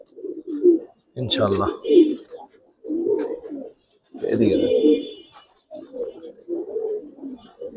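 Silver Giribaz pigeons coo in a series of low, rolling bursts at close range, while someone talks briefly over them.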